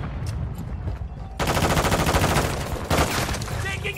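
Loud, sustained automatic rifle fire in a Modern Warfare 2 Hardpoint match on the Mercado Las Almas map, with a long rapid burst, a brief pause and another burst, under some background game chatter.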